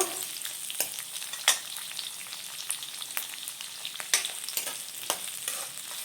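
Thick-cut onions fry for baby corn chilli, a soft steady sizzle in a pan with irregular spatula scrapes and clacks, fairly quiet and close, without any speech.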